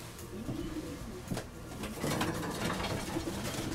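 Pigeons of a Pałka racing line, kept as a breeding pair, coo softly and repeatedly nearby, with a few brief clatters and no talk.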